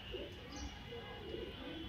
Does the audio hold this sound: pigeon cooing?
yes